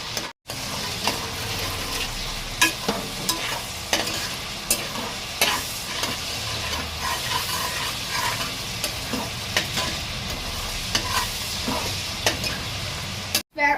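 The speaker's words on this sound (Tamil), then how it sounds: "பெரிய வெங்காயமும் கருவேப்பிலையும் நல்லா வதக்கிக்கோங்க ஃப்ரெண்ட்ஸ்" Onions and curry leaves frying and being stirred in a pan for chicken sukka, a close, continuous sizzle broken by repeated scraping and clinking of the spoon against the pan, with no voices.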